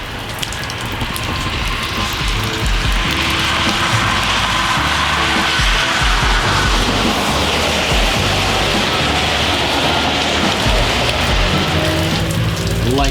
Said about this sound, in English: It's freaking raining good now, folks.